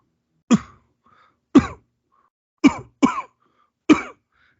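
A voice imitates a cough with five short, harsh barks separated by brief pauses, two coming close together near the end.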